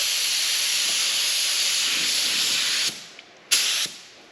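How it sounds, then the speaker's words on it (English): Spray paint hisses from a spray gun at low pressure over lace, a loud, steady, close hiss that cuts off briefly, gives one short burst, then sprays again in a final short blast. "I want to spray with not huge pressure"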